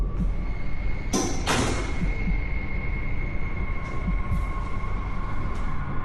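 A roof exit door at the top of a stairwell clanks and slams: two sharp metallic bangs, then lighter knocks, over a steady whining hum.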